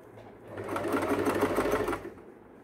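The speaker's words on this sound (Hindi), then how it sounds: "अब हम इसको ऐसे एक सीधा सिलाई लगा लेंगे।" A sewing machine runs a straight line of stitches through layered cloth for a small frilled summer doll dress, a steady close whirring burst of about one and a half seconds that starts and stops cleanly.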